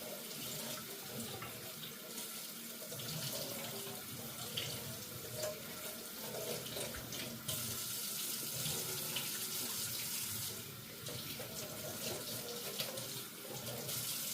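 Water runs steadily from a tap while polishing buffing pads are rinsed and wrung out under it, with splashing shifts in the flow.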